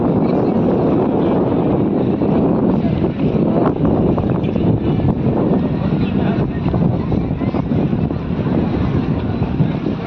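Strong wind buffeting the microphone outdoors near a river, a continuous dense low roar that fills the whole stretch without letting up.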